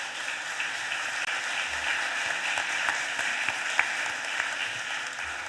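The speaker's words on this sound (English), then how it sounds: "let's give them a round of applause as well" A crowd at a Philadelphia City Council stated meeting applauds students with sustained, even clapping that holds at a moderate level for several seconds, and a few sharper individual claps stand out.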